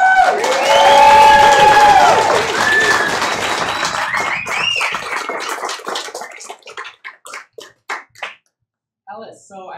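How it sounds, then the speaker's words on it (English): An improv comedy audience breaks into applause mixed with voices that starts loud and full, then thins into scattered individual claps that taper off to near silence before a last few claps. "Can everybody give them a round of applause?"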